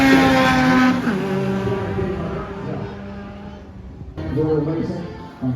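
An AWD Honda Civic racing at a drag race event gives a loud engine roar that fades as the car pulls away. An announcer talks over it, and a second surge of engine noise comes near the end.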